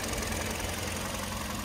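A 2016 Hyundai Sonata LF engine idles steadily with a constant, even hum and light mechanical ticking, close and uninterrupted throughout.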